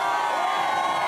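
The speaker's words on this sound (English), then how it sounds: "fans pack the pavilion, it can sound like this." A packed pavilion crowd of basketball fans at a UC Davis Aggies game roars and cheers in a steady, dense wall of noise, with scattered whoops and shouts rising out of the din.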